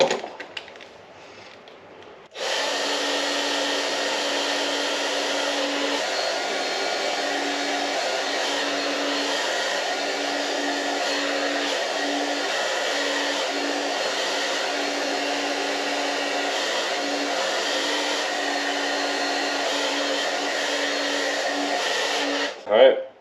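A heat gun runs with a steady, continuous blowing whir for about twenty seconds, shrinking heat-shrink tubing during a DIY ballast upgrade. It is close and even and starts abruptly after a brief quiet opening.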